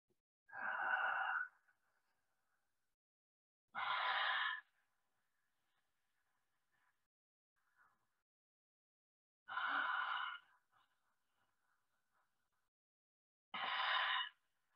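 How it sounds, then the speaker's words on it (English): Loud, open-mouthed Ujjayi pranayama breaths, four long, hissing inhales and exhales spaced several seconds apart, close and clear against silence. "make a loud sound while you inhale and exhale"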